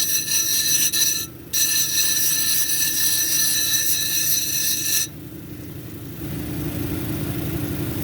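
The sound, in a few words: grinding wheel shaping Peruvian rhodonite cabochon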